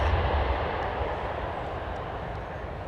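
A Boeing 767 airliner comes in at Memphis, a steady broad jet roar at moderate distance, slowly fading with a low rumble, no voices.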